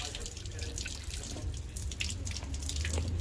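Spring water from a village fountain in İskilip, Çorum runs and drips steadily into a basin, a continuous trickling splash with light outdoor background hum.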